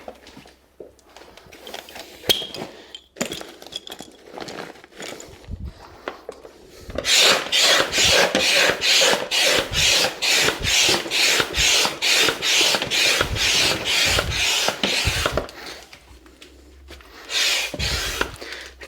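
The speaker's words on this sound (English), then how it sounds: "So in that process there, I've inflated the walls." Dop Choice Airglow inflatable walls being pumped up by hand, a long run of rhythmic rasping pump strokes in quick, regular succession, close and loud, with quieter handling noises before and a second short burst of pumping at the end.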